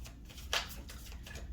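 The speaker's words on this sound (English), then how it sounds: "So let me go ahead and shuffle these cards." A deck of tarot cards is shuffled by hand in a quick, soft riffle lasting just over a second, fairly faint and close.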